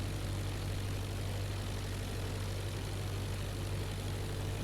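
An aircraft drones steadily during a crosswind landing in the IL-2 Flying Circus flight game, a low, even engine hum that stays constant and moderately quiet with no talk.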